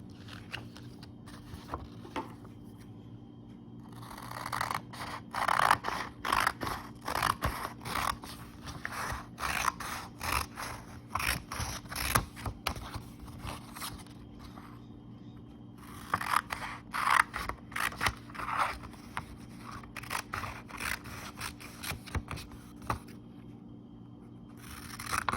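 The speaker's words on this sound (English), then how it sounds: "Go ahead and cut on these lines." Scissors cutting paper along dotted lines, repeated snipping and crisp paper rustle in uneven bursts with short pauses, close and alone.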